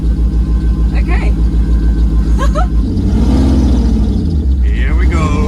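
A concept car idles with a deep, pulsing engine rumble, then pulls away in first gear as the engine tone rises, loud and close, with people talking and exclaiming over it.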